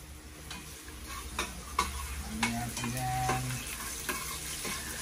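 Onions sautéing in a home kitchen pan as the first step of sopas, a steady frying sizzle with stirring and scraping scattered through it, close up and moderately loud with no talk.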